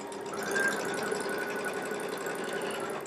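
A Baby Lock Solaris sewing machine chain-pieces fabric through a 1/4 inch piecing foot, running in a steady, fast, close whir for about three seconds with no voices.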